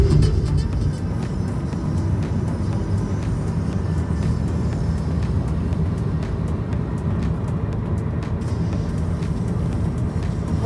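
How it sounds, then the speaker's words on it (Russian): A car creeps slowly through congested city traffic, heard from inside as a continuous low rumble of engine and road noise, steady and fairly loud, with faint clicks and no talking. "Мы едем тоже очень медленно, везде стоим."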